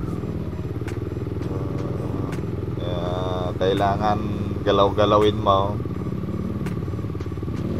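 A motorcycle engine strains and revs unevenly while stuck on rocks along a rough stony trail, the motor droning steadily close by under a man's speech.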